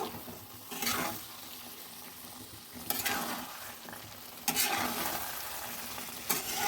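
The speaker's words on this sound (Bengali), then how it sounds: "কাজু আর চারমগজ পেস্টটা এবার হালকা হাতে হালকা হাতে নেড়ে দিচ্ছি" Cashew and melon seed paste is gently stirred in a hot pan with spices for a restaurant-style mixed vegetable dish. A steady low sizzle runs throughout, broken by soft scraping strokes of the spoon about every two seconds.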